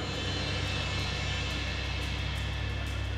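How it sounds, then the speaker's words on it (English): A drone flies over Antarctic waters with a steady, close, even droning whir of its motors and rotors, unbroken and alone for the whole stretch. "We've got a drone we're going to be using to measure their body condition."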